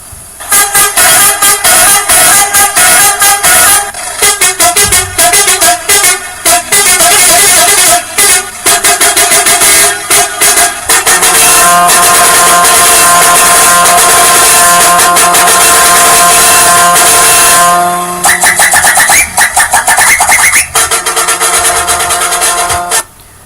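Loud modded truck air horns in Euro Truck Simulator 2, several horn tones blaring in long sustained blasts with brief gaps and changes of pitch, continuous and alone throughout.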